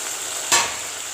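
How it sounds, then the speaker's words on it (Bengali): Onion paste sizzles steadily in a hot pan while being fried for a katla fish kalia, with a brief louder scrape of stirring midway through. "এইভাবে পেঁয়াজ পেস্টটাকে ভেজে নিচ্ছি।"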